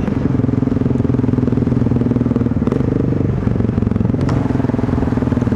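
A motorcycle being ridden on a commute, its engine droning steady and loud throughout, close by, with a rumbling, slightly clattery texture and brief rattles over the top.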